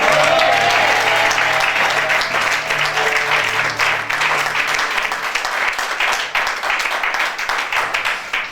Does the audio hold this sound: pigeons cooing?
no